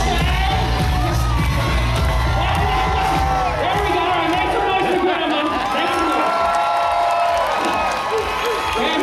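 A crowd on a Mexico cruise ship cheers, whoops and shouts loudly and continuously, with excited voices rising over a dense wall of noise throughout.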